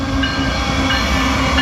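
An SCWX coal train led by an ES44AA locomotive rolls past close by as a loud, steady rumble of wheels and cars that fills the whole moment.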